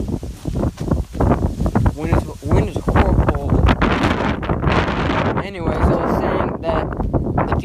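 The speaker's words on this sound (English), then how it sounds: "wind is horrible" Strong wind buffeting a microphone outdoors, a continuous low rumbling roar that gusts unevenly throughout, with someone talking over it.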